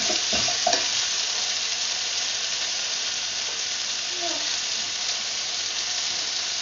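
Mussels stirred with chili and lemongrass in a hot pan for a Filipino ginataang tahong, a continuous loud sizzle with a few scraping clinks of the utensil early on.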